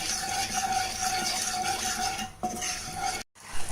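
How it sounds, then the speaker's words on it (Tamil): Sugar and water are stirred in a pan over high heat for a sweet rice halwa, giving a steady, close scraping swirl of spoon against metal that runs continuously with no voices. "ஹையில் வச்சு நல்லா நீங்கள் மிக்ஸ் பண்ணி விடுங்க இந்த சுகர் ஃபுல்லாக நல்லா மெல்ட் ஆகட்டும்"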